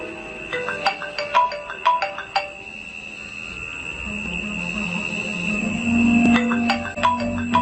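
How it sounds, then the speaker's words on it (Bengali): A telephone rings as a radio drama sound effect, with a clear electronic ringtone repeating in short, evenly spaced bursts. It sounds close and loud, with no talk over it. "শিহাব রিমাকে ফোন করল।"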